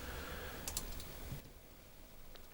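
A short, quiet burst of typing on a computer keyboard, a few quick key clicks close by, then a faint pause.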